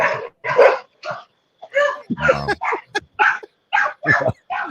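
Several dogs bark in short, sharp bursts at close range, a rapid run of loud yips and barks with brief gaps between them.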